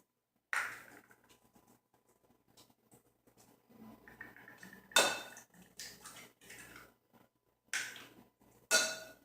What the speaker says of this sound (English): I'm just going to crack them